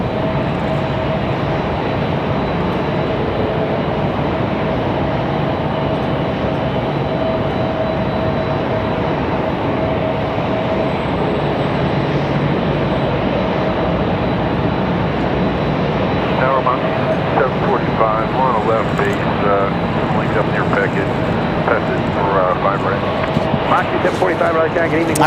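An Aer Lingus airliner touching down and taxiing at Raleigh-Durham International Airport, a continuous engine drone with a thin steady whine running under it, while voices come and go over the noise.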